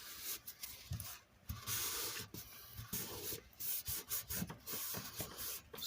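Excess being wiped off a handmade paper card, a soft rubbing and scraping in bursts, close and fairly quiet, with no talking.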